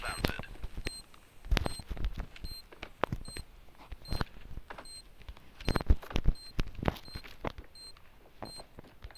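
Planted bomb in the Standoff 2 game gives off short, evenly spaced electronic beeps, steady and clear, amid scattered gunfire, footsteps and clatter from the match.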